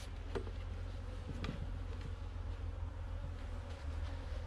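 Bees buzz in a steady, dense drone while a nuc colony is transferred into a hive outdoors. The hum is continuous and close throughout, with a low rumble underneath.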